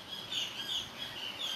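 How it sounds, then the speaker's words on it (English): Birds chirp in a backyard at sunrise, short bright tweets repeating every fraction of a second over a quiet outdoor hush, moderately close and alone. "birds chirping"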